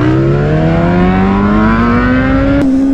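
A large 1000cc ATV engine revs loud and close, its pitch climbing steadily as it accelerates, then briefly dipping after a sharp click near the end.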